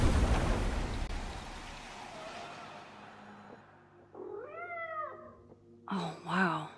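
A cat meows in the video game Life is Strange Double Exposure, two drawn-out plaintive mews rising and falling after a wash of steady rain, fairly close and clear.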